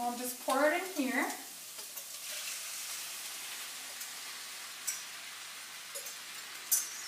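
Sauce poured into a hot Rock Crock pot for chicken pot pie sizzles loudly at first with a brief voice over it, then settles into a steady, close hiss with a few stirring clinks.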